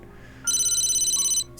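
Cell phone ringtone in a visual novel video game: a single burst of rapid, bright electronic trilling lasting about a second, clear and close, with a brief second burst starting just as the clip ends.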